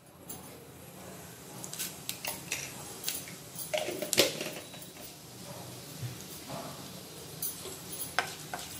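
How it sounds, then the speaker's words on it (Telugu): Seeds dropped into hot oil in a pan for a drumstick masala curry, giving a soft, steady sizzle and crackle with scattered small pops, stirring and utensil clinks, fairly quiet, with no talk. "ఆయిల్ హీట్ అయ్యింది, తర్వాత గింజలు వేస్తున్నాను"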